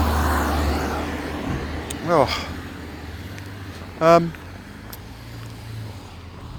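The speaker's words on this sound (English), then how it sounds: "There's a tractor just pulled alongside me in a country lane." A tractor driving alongside on a narrow country lane gives a steady low engine rumble throughout, with two brief rising whines passing over it and a short spoken exclamation.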